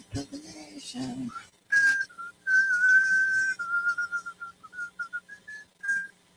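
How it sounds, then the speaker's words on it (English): A person whistles a wavering, sustained tune close to a microphone, the whistled notes broken into short phrases, with brief talking at the start and between bursts. "I probably should be whistling in the microphone."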